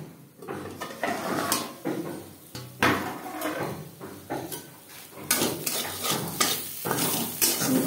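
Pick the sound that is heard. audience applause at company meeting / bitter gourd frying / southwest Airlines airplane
bitter gourd frying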